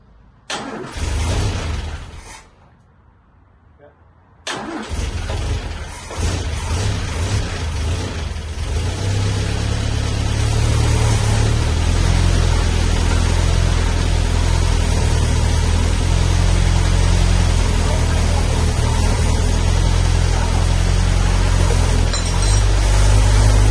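A home-built car with breathers still open cranks briefly, goes quiet, then fires up and settles into a loud, continuous rumbling run that holds steady and close for the rest of the time.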